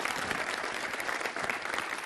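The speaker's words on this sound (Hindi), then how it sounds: "तालियों के साथ इनका स्वागत।" A crowd at a stage event applauds to welcome a guest, with a dense, steady burst of clapping throughout.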